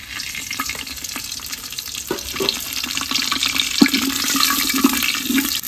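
Whole garam masala, cumin, dried chilli and bay leaf sizzle in hot tempering oil in a clay cooking pot, a steady, close hiss of frying with faint scraping sounds throughout.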